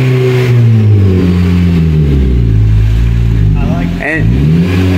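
A car revved hard inside a garage with its muffler cut off, the loud, raw engine note swelling and falling through several throttle blips, with a voice speaking briefly over it.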